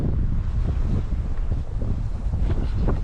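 Strong wind gusts buffet the microphone on a dam in New South Wales on a cold winter day, a loud, continuous low rumble that swells and eases without a break and with no talking.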